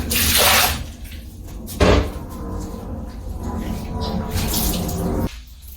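Tap water runs and splashes while a synthetic wig is rinsed of conditioner in a sink, coming in several bursts of rushing flow separated by quieter handling sounds and drips.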